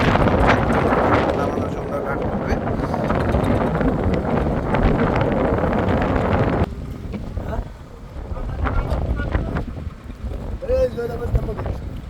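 Strong wind buffeting the microphone aboard a river launch near a launch ghat, a loud continuous roar that drops and gusts back, with faint boat and water noise and brief voices near the end.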